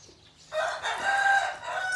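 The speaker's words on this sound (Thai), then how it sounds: "ไก่ใครมาขันนู่น" A rooster crows once at moderate distance, a clear rising then held call lasting over a second, heard alone against quiet outdoor background.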